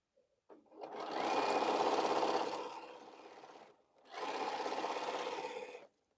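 Sewing machine sewing quilt blocks in two close, steady runs of a couple of seconds each with a brief pause between, a continuous motor whir that stops cleanly at the end.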